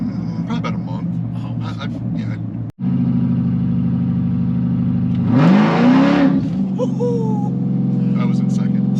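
A Jeep Trackhawk with a built motor revs and accelerates hard from inside the cabin, a loud steady engine drone that climbs in pitch, with people talking and exclaiming over it.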